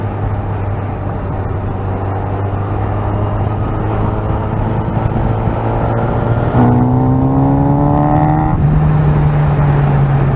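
A car engine climbs hard through the gears, holding one rising tone before a gear change and then revving higher in the next gear, loud and close with no talking.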